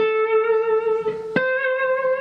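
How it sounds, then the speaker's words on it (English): A sustained electric guitar note through a vibrato pedal with a gentle wavering pitch, then a fresh pick attack and a second held note that keeps wobbling slightly. "That's vibrato. So this pedal does vibrato,"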